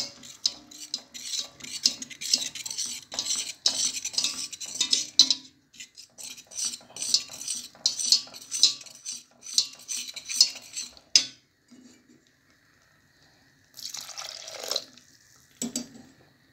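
A utensil scrapes and clinks steadily in a pot as milk is gradually added to bechamel sauce, in two long stirring bursts with a pause, then a brief pour or splash near the end.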